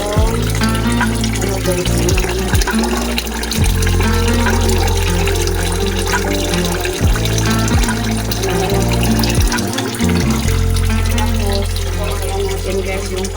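Second pressing of coconut milk poured into a cooking pot, a loud, continuous liquid gush with a few brief interruptions, heard up close while a person speaks briefly.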